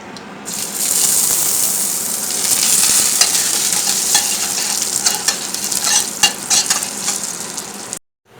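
Potatoes fry in a pan with a strong, steady sizzle, close and loud, while stirring adds irregular scrapes and clinks toward the end before the sound cuts off abruptly.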